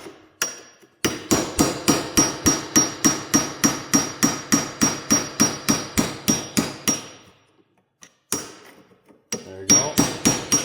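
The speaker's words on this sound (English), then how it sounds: "So I've just got a cheapo Pittsburgh punch, standard framing hammer." A standard framing hammer strikes a cheap Pittsburgh punch in a fast, even run of sharp metallic blows, close and loud, then pauses before a few more hits.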